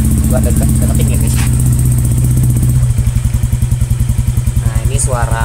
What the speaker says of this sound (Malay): Nah ini suara kalau nggak digas guys